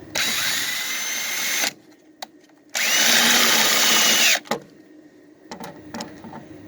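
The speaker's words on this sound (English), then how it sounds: "You just take a drill about the same size, 1/8 inch I guess, and just drill out the center." A power drill with a 1/8-inch bit whines loudly in two bursts as it bores out a center in the bodywork of a 1966 Dodge Dart GT, with a short pause between them, followed by a few light clicks and taps.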